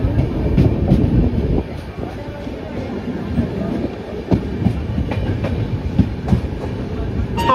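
Passenger train 14309 Ujjaini Express running on rails between Delhi and Rishikesh, heard from inside a carriage: a loud, steady rumble with periodic clickety-clack wheel knocks and faint background voices.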